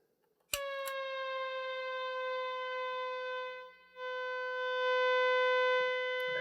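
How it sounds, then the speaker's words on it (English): An electronic siren effect from an Apollo/Shin-Ei Surf Wah guitar pedal, a sustained, bright whining tone that briefly dips midway before swelling back louder. "let's hear the siren"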